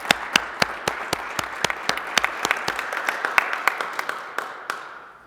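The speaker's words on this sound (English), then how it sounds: "So I want to give you guys a round of applause." Applause at a town council meeting: a small group claps in a steady, even patter of distinct hand claps for about five seconds, close and moderately loud, tapering off at the end.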